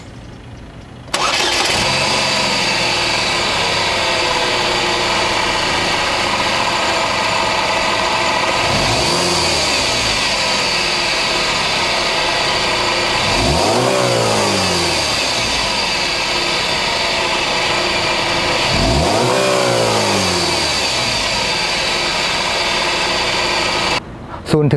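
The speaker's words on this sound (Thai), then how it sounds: "มาฟังเสียงเครื่องยนต์กัน" Used Chevrolet Captiva petrol engine starting up and settling into a steady idle. It then revs three times, each rev rising and falling, with a close, continuous mechanical drone and no talking.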